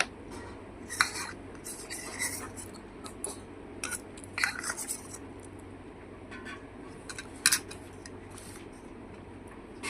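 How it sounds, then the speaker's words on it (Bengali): A spoon stirs sherbet in a bowl, making light, close metallic clinks and scrapes in irregular clusters over a quiet background, with no talk. "শরবতটা একটু নাড়িয়ে নিই"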